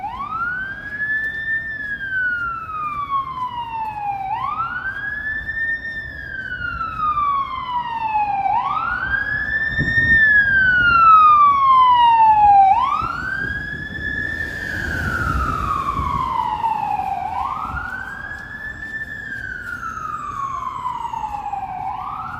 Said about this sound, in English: I think we got our first sirens of the night.